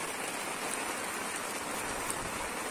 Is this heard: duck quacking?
no